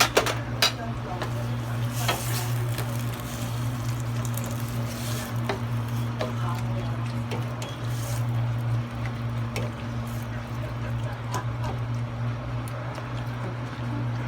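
Squid sizzles in a hot cooking pan while a utensil stirs it, giving a steady frying hiss under repeated scraping and clinking against the pan, close by throughout.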